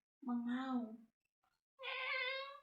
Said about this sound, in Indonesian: Si harimau ini terus mengaum.